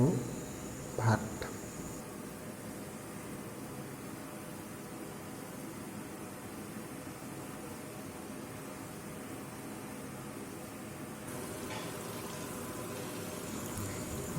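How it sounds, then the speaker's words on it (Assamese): Rohu fish frying in hot oil, giving a steady, soft sizzling hiss that runs continuously at low volume after a brief clatter at the start. "যি তেল গৰম হৈ আছে, মাছ ঢপলিয়াই আছে"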